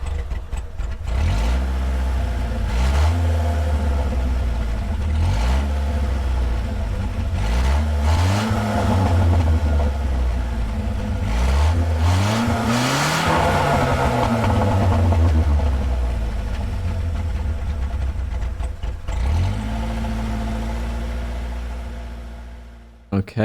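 A classic Citroen DS21 engine in Gran Turismo 7 revs up and down repeatedly, rising and dropping in pitch in several long sweeps, loud and close, before settling and cutting off.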